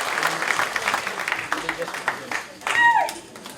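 A church congregation applauds in a sustained burst of clapping, fairly close and lively, with voices calling out among the claps and a sharp whistle-like cry near the end.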